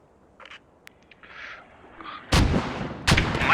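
Artillery in a video game lobbing smoke rounds onto a bridge: two loud, sharp booming reports land about a second apart near the end, preceded by faint scattered clicks and quiet interface-like sounds.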